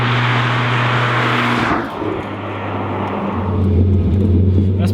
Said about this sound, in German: heute fahren wir mit seinem neuesten Schätzchen, dem Ruf CTR Anniversary